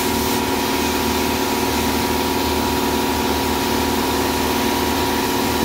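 A 3D printed vapor blaster nozzle blasts dirt off a part with a steady, dense hiss of spray over a constant pump-like drone, loud and unbroken throughout, with no voices.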